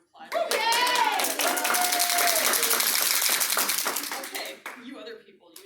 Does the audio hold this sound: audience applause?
yes